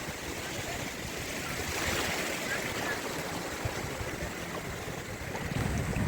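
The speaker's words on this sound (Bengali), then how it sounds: "এই যে অনেক বড় বড় ঢেউ আসতেছে।" Big ocean waves break and wash steadily onto Kuakata beach, a broad continuous roar of surf that stays loud and close throughout, with a swell in intensity near the end.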